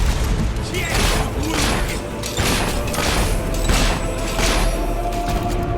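Mortar fire and blasts during a castle battle in the video game Fable 3, a dense roar of booming thuds and rumbling impacts over several seconds, loud and continuous, with voices faintly under the din.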